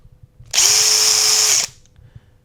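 A power drill bores a small hole through a wooden scroll saw workpiece, probably a candle arch piece with a backing board beneath, in one steady, loud, close whine of about a second with quiet before and after.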